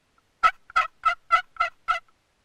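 A wooden box turkey call is worked to imitate a turkey, producing six evenly spaced, loud yelping notes in quick succession, close up and alone.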